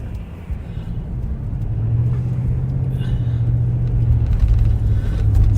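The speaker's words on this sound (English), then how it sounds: "It's very loud, but it sounds like the clutch might be slipping a little" A car with a slipping clutch struggling to get going after a traffic stop, its engine a loud, low drone that climbs steadily in pitch and volume while it strains.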